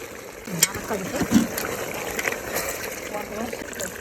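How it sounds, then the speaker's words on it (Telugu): Water splashes and trickles into a pot of simmering fighting-rooster (kosa) curry, a steady wet pouring over a low bubbling sizzle that holds for about four seconds. "ఇప్పుడు వాటర్ వేసుకోవాలి. కొంచెం కూర పూర్తిగా ఉడకడానికి కొంచెం వాటర్ కూడా వేసుకోవాలి."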